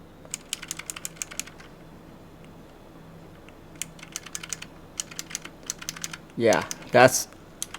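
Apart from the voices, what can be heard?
clicky Razer optical keyboard switches typing, Razer Huntsman Mini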